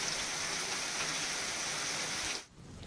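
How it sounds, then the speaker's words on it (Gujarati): Heavy unseasonal rain pouring down in rural Gujarat, a dense, steady hiss of downpour close by that cuts off abruptly near the end. "સવારથી ધોધમાર વરસાદ ખાબકી રહ્યો છે"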